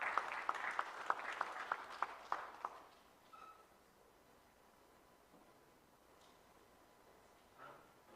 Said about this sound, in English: A clap as she comes.